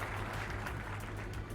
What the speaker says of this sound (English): An applause for Futura.